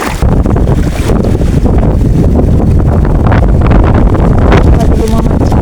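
Strong wind and big waves at a rocky fishing shore, heavy roaring surf and gusts buffeting the microphone continuously and loudly, filling the whole scene.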